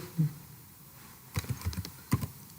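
A few quick bursts of typing sound up close on a computer keyboard after a short pause, with light, rapid clicks in two small clusters.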